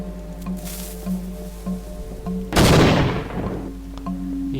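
One loud, broadband explosion bursts from a video game as something is blown up, rising suddenly over a humming game backdrop and decaying into a rumbling tail.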